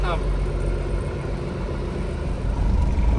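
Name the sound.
truck engine, cab-over truck driving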